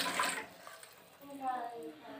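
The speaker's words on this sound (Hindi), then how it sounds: "और इसमें 1 कप पानी डालेंगे।" Water is poured into a pan on the stove for cooking noodles, a brief close splashing pour with a light trickle, while a voice talks over it.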